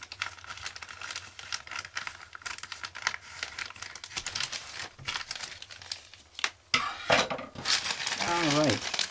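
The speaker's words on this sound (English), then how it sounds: "Let's get the bag open." A plastic bag holding Airfix 1:144 Handley Page H.P.42 Heracles model kit parts crinkles and rustles close up as it is snipped and pulled open, with small plastic parts clicking and shifting, louder near the end.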